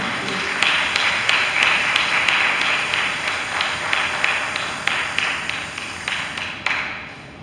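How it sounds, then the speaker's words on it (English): Steady applause from a small gathering, with distinct sharp claps in an uneven rhythm that gradually thin out toward the end. "Let's give him a round of applause as he comes."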